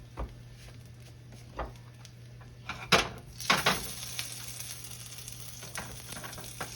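Buttermilk blueberry pancakes fry in a pan with a steady low sizzle, broken near the middle by a few sharp clatters and scrapes as one is flipped, then the sizzling settles back in alone.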